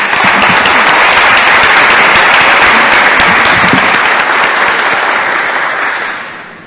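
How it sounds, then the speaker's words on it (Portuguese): An audience applauds steadily and loudly for the director-president of the Clube Português at a celebration of 500 years of Camões, a dense wash of clapping that holds for several seconds, then tapers off at the end. "levante-se para receber nossa salva de palmas"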